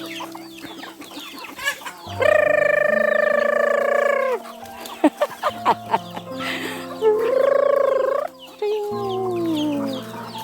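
Many native chickens on a rural province farm, with loud drawn-out squawking calls and crowing-like cries, scattered clucks and short bursts between them, close and prominent with no talk.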